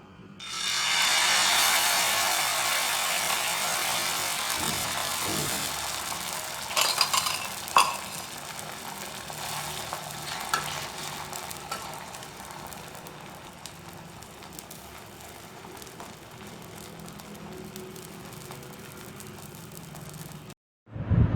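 Egg omelette mixture with red chilli powder poured into an oiled dosa pan for a bread omelette, giving a loud, steady broadband sizzle that rises quickly and holds for about twenty seconds, with faint clatter partway through, then cuts off at the end.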